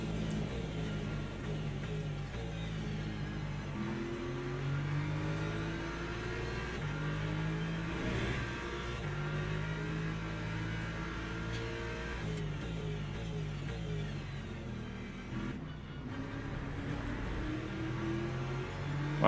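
BMW race car engine in Le Mans Ultimate revving steadily through gear changes, rising and falling harmonics, loud and continuous, close onboard perspective.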